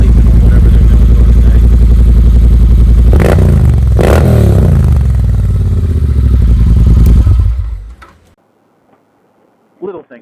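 A Triumph Speedmaster motorcycle engine runs loud and close with a brief blip of revs before cutting off into near silence; a voice is briefly heard near the end.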